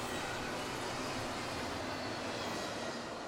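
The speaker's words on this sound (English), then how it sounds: "That was an awesome surprise train meet right there" CSX freight trains pass each other in a train meet, a dense, steady roar of rolling wagons and wheels at a distance, even and unbroken throughout.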